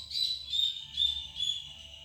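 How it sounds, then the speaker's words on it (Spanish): Small birds chirp in a garden during light rain, with four short, bright calls in a steady rhythm at moderate distance over a low, soft background. "Están cantando contentos los pájaros."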